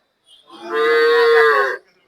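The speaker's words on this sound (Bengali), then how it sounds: "শাহিওয়াল জাতের বকনা বাছুর" A Sahiwal heifer calf gives a single clear moo lasting about a second at a cattle market, close and fairly loud with little else around it.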